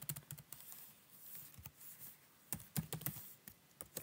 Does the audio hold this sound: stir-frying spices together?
no